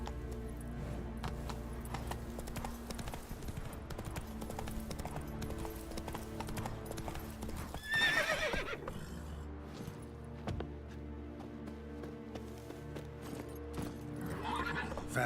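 Roach the horse gallops in The Witcher 3, quick rhythmic hoofbeats at a steady pace, with a neigh partway through and game music and background sounds around it.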